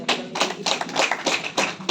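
Audience applause at the launch of a monthly literary bulletin's December issue, heard as a series of short bursts of clapping that swell and fade roughly every quarter second, close and fairly loud, with no voices over it.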